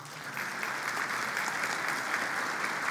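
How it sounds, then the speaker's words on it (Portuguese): A church audience gives a round of applause for two people called up to the stage, a thick, steady wash of clapping at moderate volume with no speech. "uma salva de palmas para os 2"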